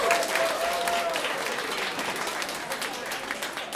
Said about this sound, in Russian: Аплодисменты, друзья мои!